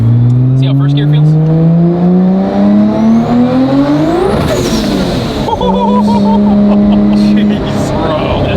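A 1500 horsepower 3.2L stroker 2JZ in a Dart pulls hard in first gear, the engine note climbing loudly to a peak, breaking off, then droning again up close with voices talking over it.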